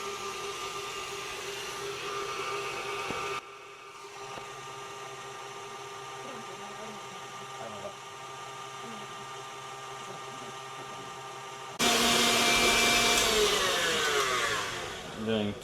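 An electric mixer runs at medium speed through cake batter, a steady whirring drone with a sharp louder, brighter burst near the end.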